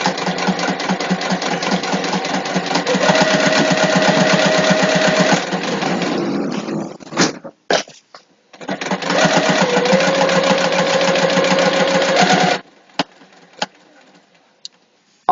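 A sewing machine runs in two long steady bursts of fast, even stitching across a clutch wallet, with a brief stop and a few clicks between them, loud and close.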